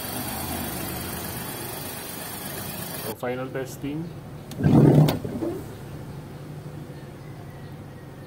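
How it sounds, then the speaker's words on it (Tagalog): A Hyundai Eon car engine starts with a brief loud surge, then settles into a low, steady idle; someone talks near the start. "Ngayon, isasalpak na natin yung sasakyan."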